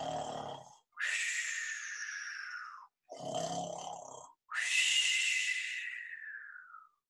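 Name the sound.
storyteller imitating a bear snoring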